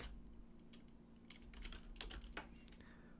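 Typing on a computer keyboard, with quiet irregular clicks of individual keystrokes coming in quick clusters, heard close up on their own against faint background hum.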